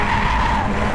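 A Mazda MX5 race car slides at Snetterton, a brief loud tyre skid over steady engine drone lasting about a second, close and continuous.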